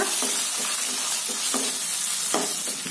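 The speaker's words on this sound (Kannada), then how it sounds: "ಇಮಿಡಿಯೇಟ್ ಈರುಳ್ಳಿ, ಕರ್ಬೇವು, ಆನಂತರ ಈ ಹಸಿರು ಮೆಣಸಿನಕಾಯಿ ಇದಿಷ್ಟನ್ನು ಹಾಕಿ ಚೆನ್ನಾಗಿ ಫ್ರೈ ಮಾಡ್ಕೊಳ್ಳೋಣ." Onion, curry leaves and green chilli fry in a pan of hot oil with a continuous close sizzle, broken by several scraping stirs.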